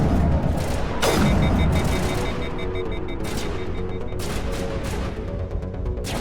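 Rapid gunfire in Mass Effect Legendary Edition, loud and continuous with a sharp blast near the start followed by sustained bursts of shots and mechanical clatter.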